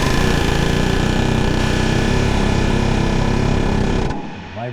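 An air hammer fitted with a flat bit rattles against the exhaust manifold of a 2013 Silverado, a loud, continuous rapid buzzing that holds steady before cutting off abruptly near the end.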